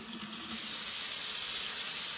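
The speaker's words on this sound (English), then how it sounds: "for a full demonstration on the faucet, turn the water on" A kitchen faucet turned on at full pressure gives a sudden, steady hiss of rushing water that carries on alone after a quieter start.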